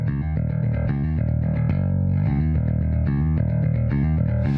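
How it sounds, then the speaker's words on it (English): A bass guitar recorded for rock and metal, played through a pedal with built-in compression, gives a run of smooth, even, sustained notes at a steady loud level, with no talk. "I am using a bass pedal with built-in compression, which produces very smooth and nice sounding tones."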